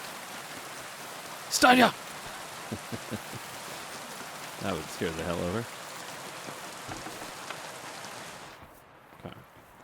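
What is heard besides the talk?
rain falling outside in video game Kingdom Come: Deliverance 2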